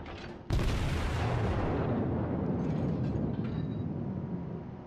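A broadside from the Japanese battleship IJN Kongo in the naval video game World of Warships: a sudden loud booming blast that rolls on as a sustained, rumbling roar, slowly fading over several seconds.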